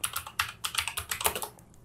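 Quick bursts of keystrokes clatter on a computer keyboard in short irregular runs, close and clear, with no voices.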